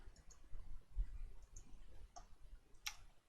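A computer mouse is right-clicked in Photoshop to duplicate a layer. A few small, quiet clicks are spread over a low background hum, with the sharpest click near the end.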